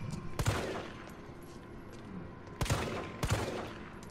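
Gunshots ring out in Resident Evil 3 as a few sharp, fairly faint reports at irregular intervals, one early and a pair near the end.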